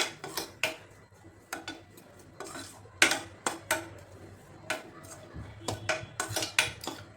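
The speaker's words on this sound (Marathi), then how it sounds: "त्यामध्ये आता हे एक वाटी तांदळाचं पीठ घालायचं" Rice flour roasted in ghee, stirred with a spoon: intermittent clinks and scrapes of the spoon on the pan, close but fairly quiet, irregular and spaced out, with a faint hint of background noise.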